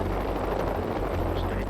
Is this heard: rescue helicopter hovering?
yes